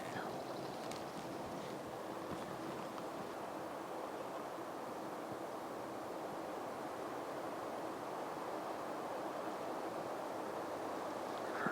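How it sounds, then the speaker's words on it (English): Strong, steady wind roars and buffets the microphone outdoors in the woods at a camp, a dense continuous rush with no breaks for the whole stretch. "I can't tell, there's too much wind"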